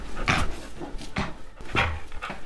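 A dog pants and whimpers close by in a few short breathy bursts, with quiet gaps between them.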